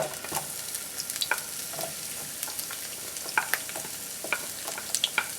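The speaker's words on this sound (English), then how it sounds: "I put in my onion" Chopped onion frying in oil in a hot pan on high heat, a soft continuous sizzle punctuated by scattered crackles and scraping clicks as it is stirred.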